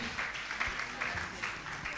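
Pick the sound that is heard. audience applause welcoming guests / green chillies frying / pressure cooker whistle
audience applause welcoming guests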